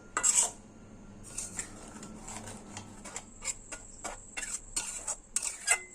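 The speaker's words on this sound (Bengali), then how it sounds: "এবার আমি মাছের মধ্যে মশলাটা ভালোভাবে মিশিয়ে দেবো" Hilsa fish pieces being mixed with spice paste for kadai paturi, giving soft wet squelching broken by repeated light clinks and taps against a bowl, close and fairly quiet, with no speech.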